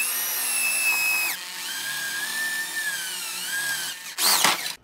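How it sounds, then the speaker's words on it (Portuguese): A drill bores through peroba wood with a dull bit, giving a loud, high whining motor tone that dips in pitch as the bit bites, followed by a brief rough grinding burst near the end. "Furar até vazar. É peroba, eu uso muito essa broca, ela já tá cega, tem que afiar de novo"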